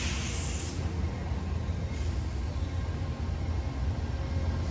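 Amtrak Heartland Flyer passenger train with a locomotive at each end, a steady broad low rumble and roar of rolling cars and engine, continuous and fairly close, with no talk.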